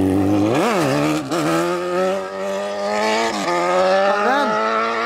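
A Honda CB1000 motorcycle revs hard and accelerates into a wheelie, its loud engine note rising and dropping through several gear shifts, close and dominant throughout.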